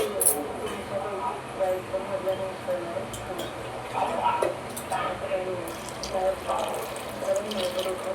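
Tap water runs steadily while cowpea leaves are rinsed, a continuous splashing wash with a faint voice in the background.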